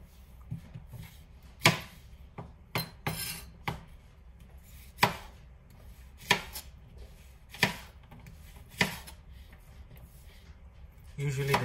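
A nakiri knife chops food on a board in a series of sharp, irregular knife strikes over soft background noise, close and fairly loud, with a brief stretch of quiet talk.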